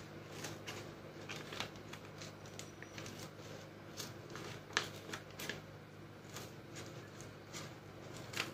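Scissors snipping while a homemade blind bag is made, giving a run of quiet, close crisp cuts and paper rustling at an irregular pace, with sharper snips standing out now and then.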